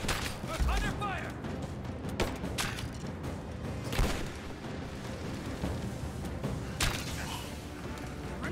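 In the Rise of the Tomb Raider video game, a grenade explodes amid bursts of gunfire at a Soviet encampment, with loud booms and rattling shots layered over dense, continuous battle noise.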